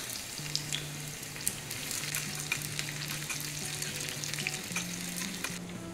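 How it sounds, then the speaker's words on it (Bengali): Raw onion fries in a pan for drumstick bharta, a soft, steady sizzle with light crackles and a faint low hum underneath, quiet and without talk. "এবার একটু কাঁচা পেঁয়াজ এখানে একটু ভেজে নেব"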